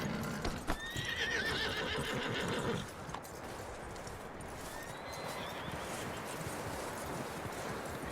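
In a Red Dead Redemption 2 game scene, a horse whinnies loudly over clopping hooves for a few seconds, then a steady outdoor ambience of wind and rustling carries on with a second, fainter whinny.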